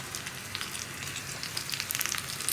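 Onions and cut dried red chillies fry in oil for a green gram curry, a quiet, steady hiss with fine crackling that grows a little busier toward the end.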